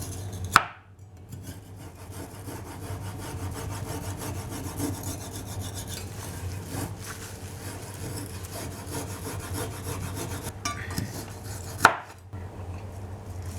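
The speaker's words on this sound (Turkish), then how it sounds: "Çok ince bir şekilde dilimliyorum." Quiet, steady rasping strokes of a knife thinly slicing chicken döner, continuous and close, bracketed by two sharp knocks at the start and near the end.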